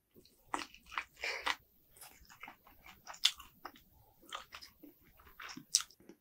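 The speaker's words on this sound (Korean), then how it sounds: "한 번 더 먹을게요" Close, crisp bites and crunchy chewing of spicy pepper-seasoned fried chicken topped with gouda cheese, in irregular bursts of crunch and softer mastication with no talking.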